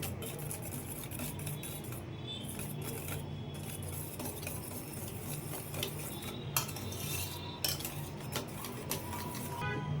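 A utensil stirs egg and powdered sugar in a bowl for an oven-free chocolate cupcake batter, with continuous scraping and light clinking against the bowl close by and no talking.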